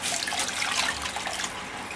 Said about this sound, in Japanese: で、お湯を足します。 全体浸かるぐらい。